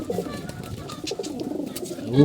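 Low cooing from old-bloodline pigeons, including a green-eyed female, rumbles under a voice, with a louder coo near the end.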